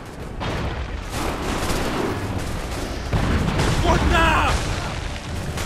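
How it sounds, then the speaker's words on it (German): Sustained volleys of musket-style gunfire and booms from an Assassin's Creed III battle roll on without pause, loud and dense, while a voice shouts briefly over the din. "Achtung! Die schießen!"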